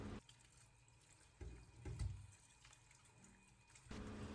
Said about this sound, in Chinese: 然后用流动的清水清洗干净